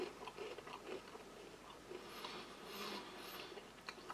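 Close crunchy bites and chewing of a salty wheat flour cracker from a German army Type 2 ration pack, a crisp crack followed by irregular mouth crunches, fairly faint and with no talking.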